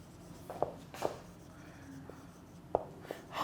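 Writing during a lecture: a handful of short, sharp stroke taps scattered over a few seconds, fairly close and otherwise quiet.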